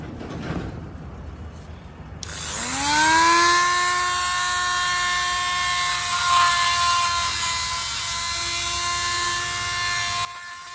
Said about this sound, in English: I'm going to be using a Dremel and a few different attachments. I kind of like this one for cutting and sanding.